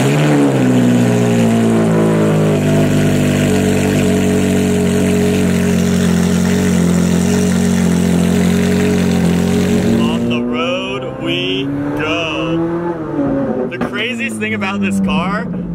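A Ferrari 458 GT3 race car engine drones loudly with a steady, rich harmonic note, then pulls away with revs rising and shifting in sweeps, with a person speaking over part of it.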